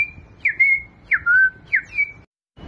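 A human whistle imitates a bird chirping: three quick, bright rising-then-falling whistled calls in a steady rhythm, close and fairly loud, followed by a brief silence.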